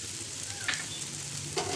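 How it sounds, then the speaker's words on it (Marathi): Grated coconut roasts in a pan with a dense, continuous hiss and crackle as it is stirred, with a couple of faint scrapes rising briefly above the sizzle. "तर आता खोबऱ्याचा किस भाजून घ्यायचा."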